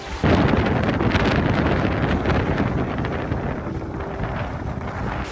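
Strong wind of about 15 knots or more rushes past a sailing dinghy in a narrow channel, a loud, continuous roaring buffet on the microphone with no voices.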